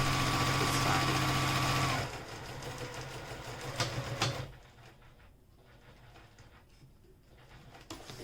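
A sewing machine runs a line of stitches in a steady, close motor whir for about two seconds, then stops, leaving quieter handling clatter and small knocks.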